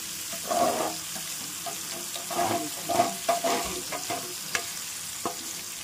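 Pomfret fish frying in a pan with spices sprinkled on top, giving a steady sizzle under clustered scraping and stirring noises, moderately close, with no talking.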